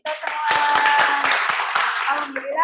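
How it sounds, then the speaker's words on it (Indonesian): Applause in a school classroom during a science lesson. A burst of clapping from a group of students is loud and dense, sustained for about two seconds before fading, with a voice faintly audible underneath. "Oke, tepuk tangan buat kita semua."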